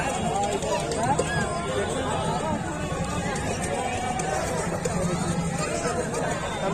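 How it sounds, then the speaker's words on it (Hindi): Dense crowd chatter fills a busy Durga puja pandal in Jamshedpur, a steady, continuous babble of many voices with no single voice standing out. "देखिए यहाँ पे चारों तरफ बहुत भीड़ है"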